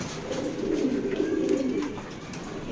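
A pigeon coos in a racing pigeon loft, a soft, low, throaty burbling call rising and falling for a couple of seconds, close and fairly quiet.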